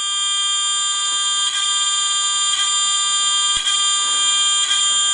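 An electronic buzzer on a fischertechnik driving robot holds a loud, steady high-pitched multi-tone drone, pulsing slightly about once a second, alone with a single faint click near the end.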